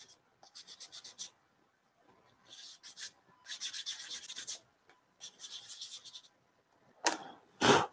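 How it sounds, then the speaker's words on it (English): Short bursts of hand sanding on a cosplay prop, a Clone Wars-style Jedi comm-link, rasp in uneven strokes with brief pauses between them, close and fairly quiet, ending in a couple of louder scuffs. "just focusing on sanding"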